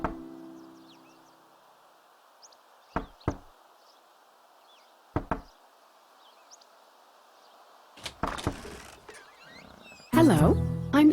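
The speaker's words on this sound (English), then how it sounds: "if someone knocks on your door" Knocking on a door in the Desperate Housewives video game, heard as two separate pairs of sharp raps over a quiet ambient background with faint chirps, followed by louder game sounds and a voice near the end.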